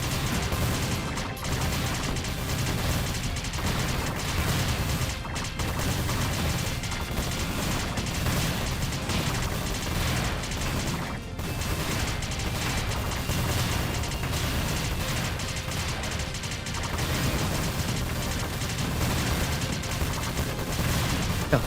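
Dense explosion and gunfire sound effects from the video game Freedom Planet form a continuous, busy barrage of blasts and crashes throughout, moderately loud with no voice.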